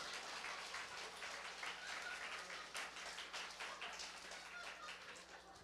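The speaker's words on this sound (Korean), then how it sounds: "하나님께 영광의 박수를 드리겠습니다." Applause from a church congregation during a Sunday sermon, faint and fairly distant, a loose patter of many hands clapping at an even level over a low hum.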